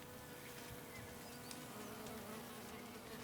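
Heavily laden honeybee foragers return to their hive in a forest, making a constant dense buzzing hum of many insects at moderate distance, with a few louder individual passes and no voices.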